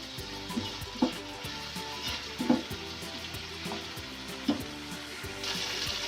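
Chicken fries with soy sauce in a pan, giving a continuous close sizzle with occasional soft knocks of stirring, and no voices.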